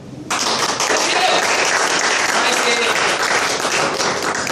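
An audience at a builders' training session breaks into sudden, full applause that starts abruptly and stays loud and dense throughout, with some voices mixed in beneath the clapping.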